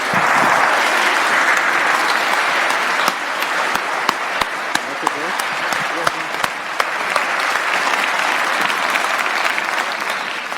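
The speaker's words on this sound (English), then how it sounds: "the executive director of the Renaissance Institute should really get an applause from you" A full hall audience applauds the executive director of the Renaissance Institute at a lecture event, dense steady clapping filling the room for about ten seconds, with a few sharper claps standing out.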